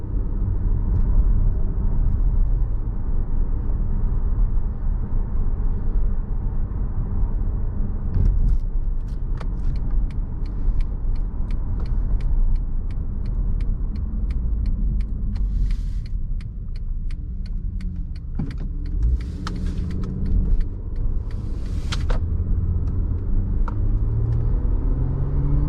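A 2014 Acura TL Advance SH-AWD with the 3.7-litre engine, shifter in sport mode, gives a steady low rumble of engine and road noise from inside the cabin, with a few light clicks and rattles.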